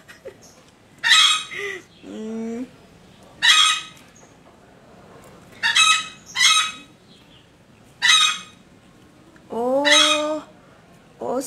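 Hen clucking and squawking repeatedly as she settles to lay eggs, bursts of loud calls every second or two with brief pauses between them.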